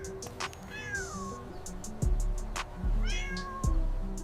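A cat meows several times, with rising and falling tonal calls. Music plays underneath with a few deep thumps.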